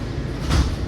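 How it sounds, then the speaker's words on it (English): Doors close on a WMATA Orange Line 7000-series metro car: a short, loud whoosh and thump of the sliding doors over the steady rumble of the train. "Step back. Doors closing."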